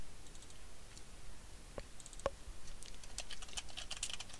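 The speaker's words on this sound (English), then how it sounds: "One day I'll learn to type without making stupid mistakes." Rapid clicking of computer keyboard keys while entering dialogue text in the Fallout 4 Creation Kit, a quick irregular patter of close keystrokes with a few sharper taps, no voices.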